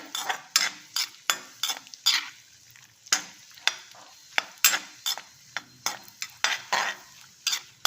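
Rapid scraping and stirring in a pan, an irregular series of sharp clinks and rustles, close and fairly quiet, with no talking.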